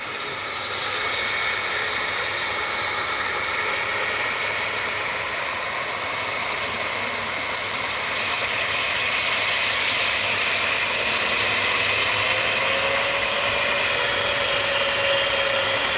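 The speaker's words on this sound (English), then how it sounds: "This is an engine note I'm going to miss when it finally does get retired, the 757." A Boeing 757 at Manchester Airport gives a steady, loud jet engine roar with a high whining tone that holds unbroken throughout, heard from nearby without voices.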